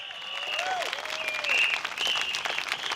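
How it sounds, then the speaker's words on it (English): A political rally crowd at an outdoor stadium applauds and cheers continuously, dense clapping with whistles and shouts rising and falling across the space. "please, go ahead and cheer for him"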